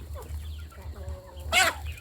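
A black chicken clucks softly a few times over a low hum, then lets out one sharper, louder squawk near the end.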